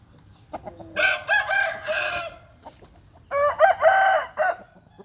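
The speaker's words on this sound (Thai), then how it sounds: "ไก่" Chickens cluck and a rooster crows nearby in two distinct bursts, separated by a short quiet gap, with no one speaking.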